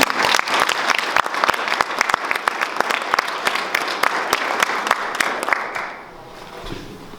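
An audience at a museum applauds to welcome author Anthony Amore, a dense burst of clapping that rises quickly, holds for several seconds and then fades out.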